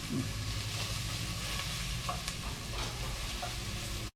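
Onions fry in a cast iron Dutch oven on a Camp Chef stove, a constant close sizzle with occasional faint stirring clicks, ending abruptly, with no voices.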